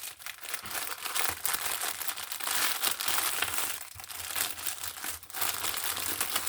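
Continuous close crinkling and rustling of plastic packaging being handled, loud and steady for several seconds with small bursts of crushing, no voices.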